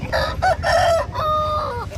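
An aseel rooster at the Gudur chicken market lets out a close, loud crow lasting about two seconds, with a broken, stuttering start before a long drawn-out final note.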